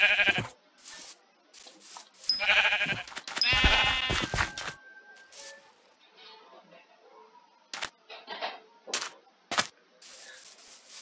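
Sheep in the video game Minecraft Hypixel Skyblock bleat in short bursts, several close, clear baas early on, then quieter clicks and rustles with occasional further bleats.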